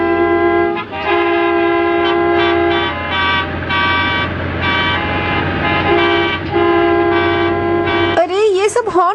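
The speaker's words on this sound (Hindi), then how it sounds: "अरे ये सब हॉर्न क्यों बजा रहे हैं?" Steady, loud vehicle horns honk in cartoon city traffic, layered and held for several seconds with brief breaks, before a voice cuts in near the end.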